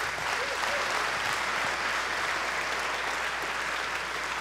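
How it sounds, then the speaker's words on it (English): A large conference audience applauds contest winners on stage at a Java developer event, a dense, continuous wash of clapping filling the hall without pause. "give them an applause"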